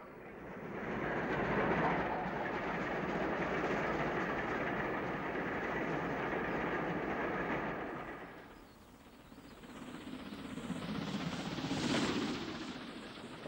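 An LMS Jubilee steam locomotive rumbles past on the Midland Main Line with a broad, roaring mechanical noise that swells, dips, and then returns, heard from trackside.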